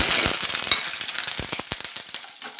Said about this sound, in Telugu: బాగా ఎర్రగా వేగాలి వట్టిమిరకాయలు వేసుకోవాలి కరేపాకు